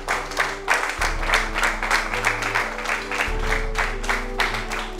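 Sustained applause from an audience for heroic police officers at a ceremony, steady dense clapping throughout with a low hum beneath.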